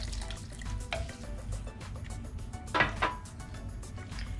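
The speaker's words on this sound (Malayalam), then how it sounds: "പിന്നെ 1 ഗ്ലാസ് വെള്ളം ഒഴിക്കുന്നുണ്ട്." A glass of water poured into a pot of fish curry, soft splashes and drips with a couple of louder pours standing out over a low background hum.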